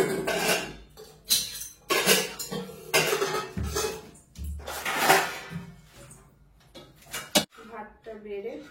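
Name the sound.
pots and dishes while serving rice and dal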